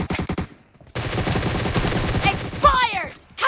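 Rapid automatic fire from a Groza rifle in an intense video game fight. The close, loud bursts are broken by a short pause and then a sustained stream of shots, with whizzing and ricochet-like effects near the end.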